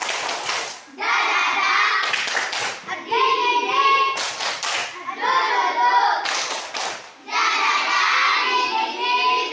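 Children do a rhythmic spirit clap (tepuk semangat) in a classroom, bursts of sharp claps alternating with sung chanting voices in a repeating pattern.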